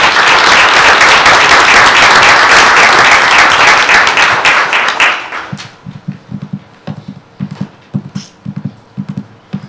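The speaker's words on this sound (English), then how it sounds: "And they should be applauded for that" Loud applause from an audience at a school board meeting fills the first half, dense and steady, then thins into a few scattered claps and taps before fading out.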